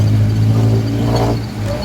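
A motorized tricycle's engine drones past, its low, steady hum and mechanical rattle holding close and loud before easing slightly toward the end.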